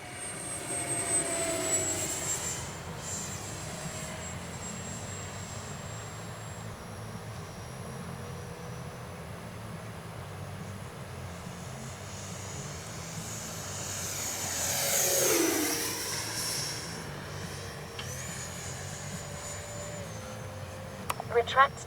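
A Freewing F-22 RC jet flies just after takeoff, its steady engine whine running through the whole stretch and swelling briefly as it passes nearby before fading back. Faint speech sits under the noise, and a few sharp clicks come near the end.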